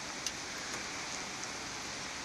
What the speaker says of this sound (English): This is the weather in Croatia. It's terrific, isn't it? Terrific. Rain, wet people, wet grass, wet woods